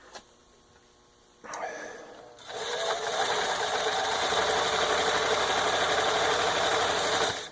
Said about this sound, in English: We've got 4 layers of denim here, and I'm just going to go straight zigzag stitch on that